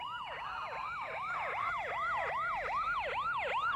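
Ambulance siren in an anime scene, a steady repeating wail rising and falling about every 0.4 seconds, loud and continuous throughout with no talk over it.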